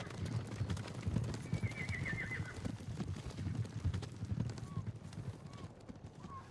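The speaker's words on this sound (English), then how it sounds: "Why do I hear horses?" Horses neigh and whinny with clopping hooves in the game Ghost of Tsushima, a few short whinnies standing out over busy in-game ambience and footfalls, moderately distant.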